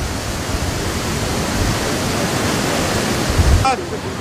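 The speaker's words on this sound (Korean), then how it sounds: "이제 첫 번째 폭포 아래로 들어갑니다" Iguazu Falls pours down in a continuous, loud, roaring wash of falling water as a boat passes beneath it, with a brief sharp tonal sound near the end.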